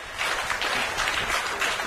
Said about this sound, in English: as the applause comes for the